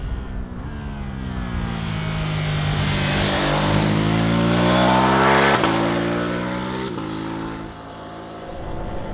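A Ducati Multistrada V2 S adventure bike's V-twin revs hard under acceleration, its loud engine note climbing and falling through gear changes as it passes close by, with no one speaking.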